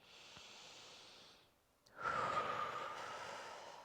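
Deep breathing during a mobility exercise: a long, soft airy inhale fades out, then after a short pause a louder, rougher exhale follows, close and alone.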